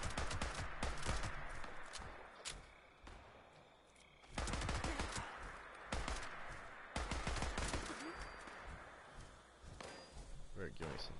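Gunfire in the video game Fallout 76, repeated sharp shots and bursts in clusters over about eleven seconds, fairly faint, with a voice talking in between.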